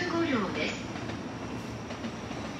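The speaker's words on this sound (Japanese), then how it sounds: "3番線に普通熱海行きが参ります。" A JR E231 series local train bound for Atami on the Ueno-Tokyo Line, 15 cars long, rolls in at platform 3 with a steady, loud rumble of wheels and brief wheel squeals near the start, heard up close throughout.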